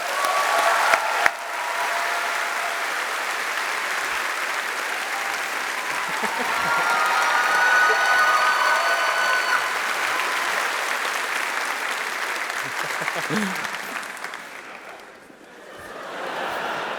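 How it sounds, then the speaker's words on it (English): Sustained applause from a large convention audience at a PAX West panel fills the space for a long stretch, swelling briefly before fading, with a voice coming in at the end. "Let's get another warm round of applause for Mr. Marcin Iwinski"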